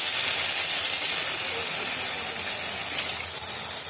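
Water poured into a hot pan of melted tomatoes sizzles with a loud, continuous steamy hiss, close and steady throughout, with no talking.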